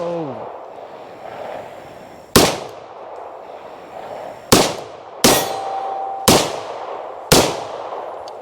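An IMI Jericho 941F pistol fires five loud, sharp shots at an outdoor range, spaced about a second or two apart, each ringing out briefly.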